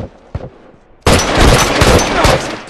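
Rifle gunshots in a multiplayer match of The Last of Us, set in a university during a supply raid: after a brief quiet stretch with a soft knock, a sudden loud burst of close gunfire erupts and keeps cracking without any talk.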